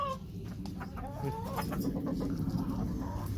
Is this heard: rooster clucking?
yes